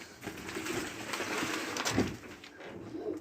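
Pigeons cooing in a farmyard dovecote, soft low coos repeated a few times at close range over faint background rustle, with no talk.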